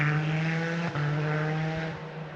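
Motorbike engines drone steadily nearby with a rising and falling whine as they pass on a road in the Cotswolds, no talk.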